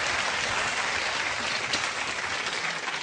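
A television studio audience applauds the chef Jamie Oliver on a chat show, with dense, loud, continuous clapping that holds steady for about three seconds and has no voices over it.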